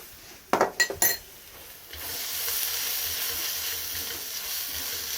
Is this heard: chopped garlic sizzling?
yes